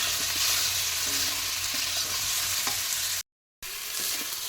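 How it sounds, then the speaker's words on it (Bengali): Srinda fish frying in a kadai with salt, chili powder and turmeric gives a steady, close sizzle with faint stirring scrapes, briefly cutting to silence before the crackle resumes. "আবার একটু ভেজে নেব।"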